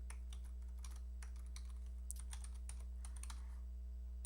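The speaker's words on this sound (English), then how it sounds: "type" Rapid keystrokes on a computer keyboard as a web address is typed into a browser bar, a steady run of light clicks over a constant low electrical hum.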